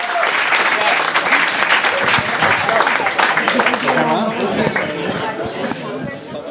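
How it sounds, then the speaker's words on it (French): A live podcast audience breaks into loud, sustained applause, a thick wash of many clapping hands with some voices mixed in, tapering off toward the end. "on vous demanderait d'applaudir pour nous amener à la pause"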